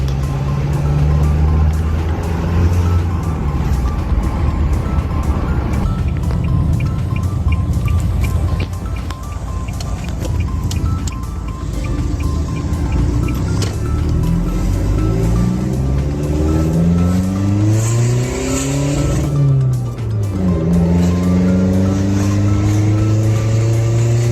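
A pickup truck's engine on its stock exhaust revs up and down several times while driving, a loud rising and falling drone that climbs through the gears near the end, with no talk.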